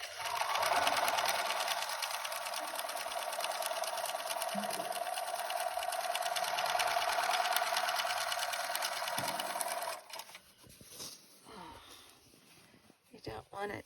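Sewing machine stitching a seam in a steady, fast whirring hum for about ten seconds, then stopping, followed by a few softer clicks and handling noises while someone talks.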